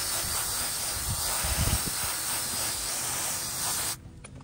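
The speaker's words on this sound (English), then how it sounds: "We always start off with a carpet shampoo, as we want these mats to be fully dried off by the time that we are done." Carpet shampoo sprays steadily onto car floor mats in a continuous, fairly close hiss with faint low thumps underneath, and it stops sharply just before the end.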